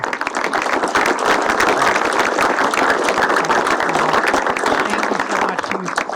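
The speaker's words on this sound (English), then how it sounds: "And maybe give them a round of applause, too" Sustained round of applause from an audience at a city State of the City address, steady and full throughout with a faint murmur of voices underneath.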